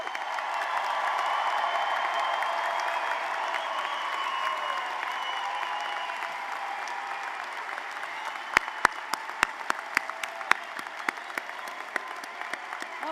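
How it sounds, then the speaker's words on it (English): A commencement crowd gives a long round of applause for graduates, a broad steady roar of clapping that thins out later into scattered, distinct individual claps. "let's give one more gigantic round of applause for all the graduates"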